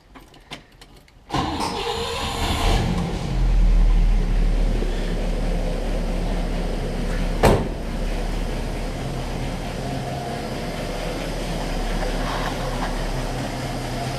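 A 1960 Pontiac barn-find engine cranks briefly, fires and settles into a steady loud idle that runs on alone to the end, with one sharp knock partway through.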